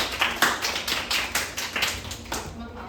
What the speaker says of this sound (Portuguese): palmas pro grupo!